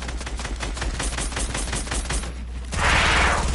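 Rapid bursts of automatic gunfire from a video game crackle in a steady stream, followed by a louder, broader blast near the end.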